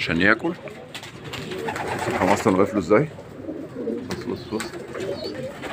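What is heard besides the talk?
pigeons cooing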